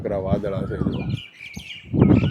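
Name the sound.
Asian koel calling outdoors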